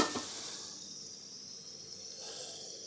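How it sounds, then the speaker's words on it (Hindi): Half a kilo of chicken frying with spices in a pan for biryani, a steady close hissing sizzle held throughout with no talk. "इसको हम 6 से 7 मिनट अच्छी तरह से भूनेंगे।"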